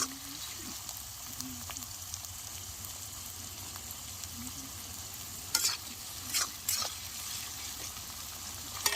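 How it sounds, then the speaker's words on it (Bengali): Onion and green chillies frying in a pan at an outdoor campsite in light rain, a faint steady sizzle with soft stirring scrapes and a few louder clatters near the end. "পেঁয়াজ কাঁচা লঙ্কাটা বেশ ভালো করে লাল লাল করে ভেজে নেব।"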